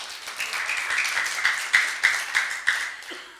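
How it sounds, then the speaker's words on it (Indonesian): A small gathering at a prayer hall claps for a visiting provincial legislative candidate, a fairly close patter of hands with several louder, rhythmic unison claps toward the end before it stops and a brief voice begins. "Boleh tepuk tangannya?"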